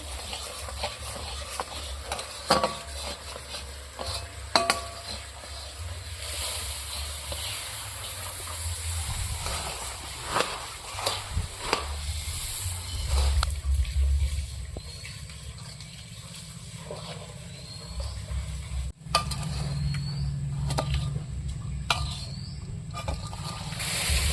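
Puffed rice being stirred into cooked jaggery syrup in a pot for a festive sweet, a steady scraping, rustling stir with irregular clicks and knocks, close and fairly loud, no talk.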